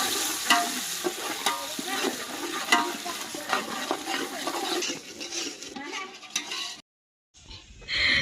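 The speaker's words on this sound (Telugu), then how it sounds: "ఫస్ట్ అల్లం చిన్నపాయ కొబ్బరి పేస్ట్ అయితే మొత్తం వేసేసుకొని నూనెలో బాగా ఫ్రై చేసేసుకోవాలి" Ginger, shallot and coconut paste frying in oil, a loud close sizzle with frequent stirring scrapes and clatter, fading out and briefly going silent near the end.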